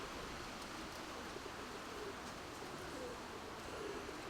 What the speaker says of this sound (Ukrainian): це вітрові голуби